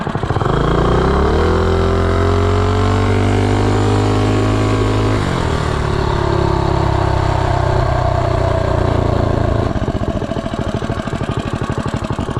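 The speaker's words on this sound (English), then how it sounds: "Zero to 30, second attempt. Mega Moto 80 105 swing arm." Mega Moto 80 mini bike with a 105 swingarm accelerating from a standstill to 30, small engine revving up steadily and loud, pitch climbing then dropping at a gear change before rising again, close and continuous.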